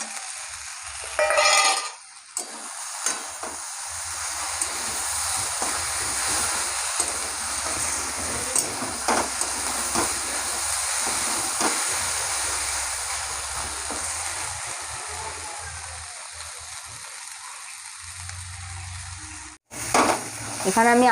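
Potatoes and onions sizzle and fry steadily in a pan, with occasional stirring scrapes and clinks, close and continuous for most of the stretch before a brief pause near the end.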